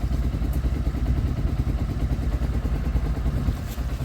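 A Sinnis Outlaw 125 motorcycle idles very quietly nearby, a soft, even low-pitched engine patter running continuously with a couple of faint ticks, no voices.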